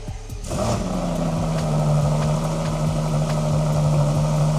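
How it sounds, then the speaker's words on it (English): A 2025 Ferrari Purosangue fires up on a cold start, recorded close at the rear: a sharp catch, then a loud, steady, smooth idle that holds with no pauses. "Let's bring the mic to the back so you guys can hear the cold start for this car."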